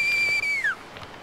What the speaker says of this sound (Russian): Свистит, свистит.